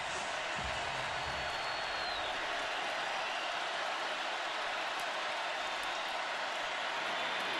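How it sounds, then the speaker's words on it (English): A packed football stadium crowd roars during an Auburn versus Georgia college game, a dense, loud, unbroken wash of noise that drowns everything else. "Jake Fromm trying to be heard over the crowd."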